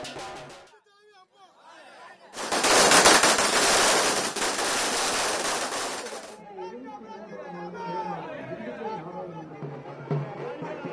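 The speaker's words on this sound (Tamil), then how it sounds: "பட்டாசுகள் வெடித்தும் கொண்டாட்டத்தில் ஈடுபட்டுள்ளனர்" Firecrackers burst in a rapid crackling string for several seconds at a party headquarters celebrating an AIADMK by-election win, loud and dense, with crowd chatter and voices before and after the barrage.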